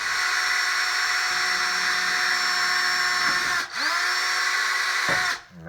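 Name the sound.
drilling hole in boat fiberglass with dull drill bit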